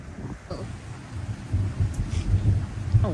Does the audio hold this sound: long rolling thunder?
yes